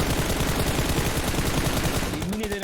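Rapid automatic gunfire in the mobile battle royale game PUBG Mobile, a dense loud burst of shots lasting over two seconds before cutting off.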